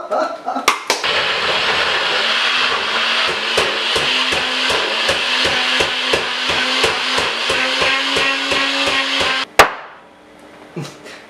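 NutriBlend bullet blender blending mushrooms, a steady loud motor whir pulsing with fast rhythmic knocks for about nine seconds, starting after a couple of clicks and cutting off abruptly into near silence.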